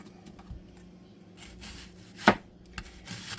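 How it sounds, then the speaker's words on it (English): Kitchen knife slicing onions into rings on a cutting board for garden pickles, a few irregular crisp chops and knocks, close and isolated against quiet background. "We always just cut our onions in rings."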